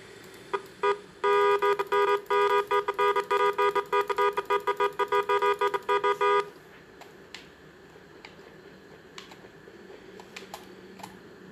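A car horn honks repeatedly in the Rules of Survival mobile game, a rapid run of loud toots for about five seconds, with a few keyboard-like clicks before and faint clicks after.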